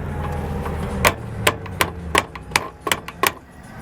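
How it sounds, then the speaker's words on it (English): Hammer strikes ring out on a rusted bolt holding an RV power awning, about eight sharp metallic blows at a steady, slightly uneven pace, close and loud over a low background hum. "you have to beat on it just a bit"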